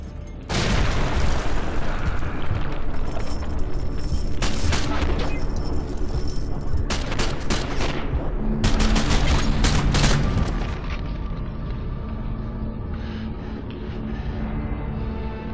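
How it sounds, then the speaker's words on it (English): Artillery shells pound the area during a bombardment in the shooter Call of Duty: Modern Warfare 2, a loud, continuous barrage of booming blasts and crumbling debris that rolls on for several seconds before easing into a lower rumble. "they started the bombardment early"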